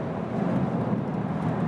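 Volkswagen Golf GTI TCR engine held at high RPM on a racetrack, a steady low droning roar heard from inside the cabin, continuous and fairly loud with no breaks.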